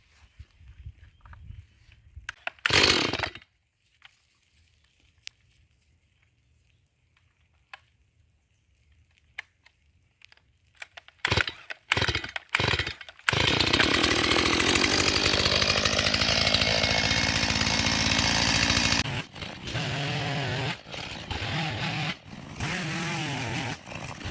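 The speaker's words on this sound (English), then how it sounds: "this is the cute little chainsaw that my husband got me so that I can do my own stuff" A small chainsaw, a birthday gift, revs up after a few quiet seconds and some handling clicks, then runs loud and steady for several seconds before sputtering and revving again in bursts.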